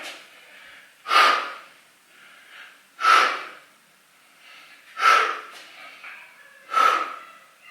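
Heavy breathing during lunge exercises, four strong rhythmic exhales about two seconds apart, close to the ear, with softer inhales between them.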